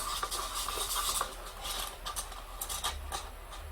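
Paint being stirred while yellow is added and mixed into a colour batch, a soft scraping and clinking of the stirrer against the container, repeating in light taps and swirls at close range with no talking.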